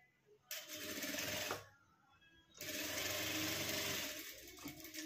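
A sewing machine stitches a chain onto a small purse in two close bursts of fast, rhythmic running separated by a short pause.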